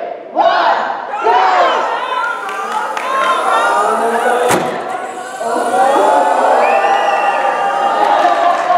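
Loud crowd of children and adults cheering and shouting together at the final heat of a Meccano model race at an annual Meccano exhibition, sustained throughout with a brief thump near the middle.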